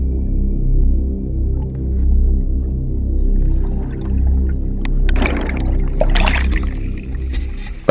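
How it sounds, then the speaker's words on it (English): A faulty boat motor runs with a low, throbbing drone that swells and fades steadily, with brief scraping and splashing noises near the end. "The motor of the boat has some problems"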